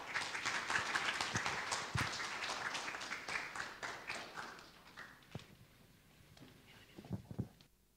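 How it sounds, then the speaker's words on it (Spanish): An audience at a science-fiction talk by Guillermo Muñoz in Punta Arenas bursts into sustained clapping that thins and fades over several seconds, leaving a few scattered claps and knocks at the end. "Un fuerte aplauso entonces para Guillermo Muñoz."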